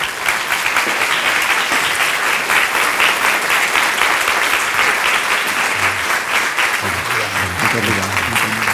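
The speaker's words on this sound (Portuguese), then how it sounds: "Uma salva de palmas, por favor, para Richard Zimmler." An audience at a public talk in Porto gives a long, dense round of steady applause to welcome a guest author, the clapping unbroken from start to finish.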